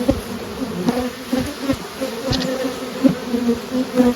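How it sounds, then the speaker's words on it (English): Honey bees drone around hive frames holding drones and nurse bees, a continuous close buzzing hum that swells and fades slightly as individual bees pass near, with no talking. "drones and nurse bees"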